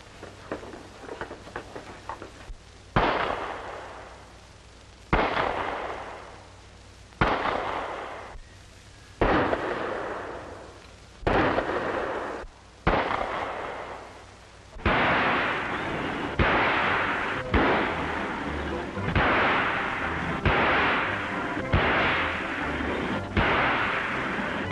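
Police pistol practice in a 1940 film: a series of sharp gunshots, about a dozen, fired one after another at irregular spacing, each ringing out with a short decaying echo.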